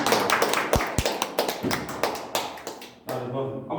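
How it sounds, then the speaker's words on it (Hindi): A church congregation at a prophet's healing service claps loudly in quick, uneven bursts, with sharp individual claps and some thumping taps. Voices mix in with the clapping before it briefly drops away near the end. "जोरदार यसलाई ताली दिनु"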